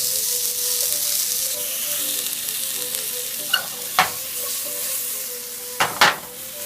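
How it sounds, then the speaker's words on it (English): Apple slices fry in a skillet for an apple tansey, giving a steady bright sizzle with a few utensil knocks and scrapes toward the end, close and loud, with no speech. "add the apple slices to the skillet and make sure you fry them evenly on both sides until their edges begin to brown"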